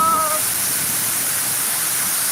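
Heavy rain falls in a steady, dense hiss that fills the whole stretch without letting up, with a faint brief tone at the very start.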